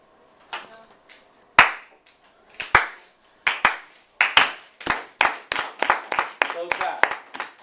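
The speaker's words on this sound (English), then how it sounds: "Slow clap." A slow clap indoors: single sharp hand claps start sparse and irregular, then come faster and closer together, each one crisp and near, with no talk over them.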